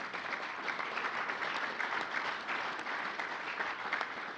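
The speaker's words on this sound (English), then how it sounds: "please give the development department a round of applause" Audience at an alumni forum on capital raising giving a round of applause for the development department, sustained even clapping from a sizeable room, moderately distant and without talk over it.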